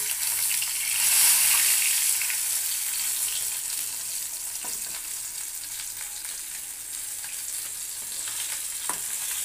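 Parshe fish cooking in mustard in a pan, giving a continuous bubbling sizzle, close and steady, with a couple of soft utensil knocks and no talking.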